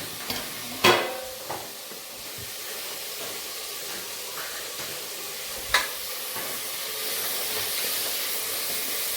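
Sliced onions and tomatoes frying in a pan for a basic chicken curry, a steady close sizzle and hiss with a couple of clinks of stirring, no talk.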